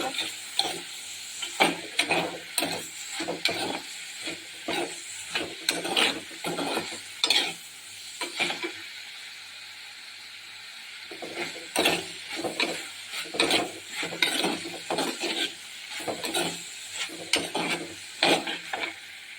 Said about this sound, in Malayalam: വെണ്ടയ്ക്കയും കൂടെ ഇട്ട് കൊടുത്ത് എല്ലാം കൂടെ നന്നായിട്ടാണ് മിക്സ് ചെയ്ത്